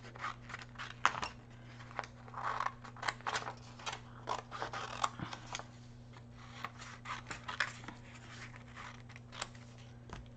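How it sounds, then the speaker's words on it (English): Scissors snip steadily while cutting a picture out of paper for a handmade embellishment. The snips are close, quick and repeated over a steady low background hum. "just going to cut this one out."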